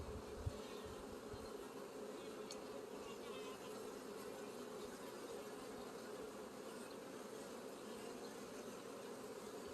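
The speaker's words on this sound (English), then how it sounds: "So we have a pretty decent clump of bees right there" A clump of honey bees gives off a dense, steady buzzing hum that holds at an even level from start to finish, close by, with no voices.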